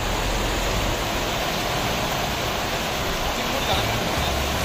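Rushing, foamy river water near Dugadda Fatehpur roars as a continuous broadband wash, loud and close throughout, like a rapid or small waterfall with no break.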